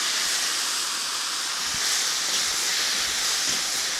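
Steady broadband hiss of steam rising from an asparagus pasta primavera in a hot pan, continuous and fairly loud across the whole stretch with faint crackles, no talking.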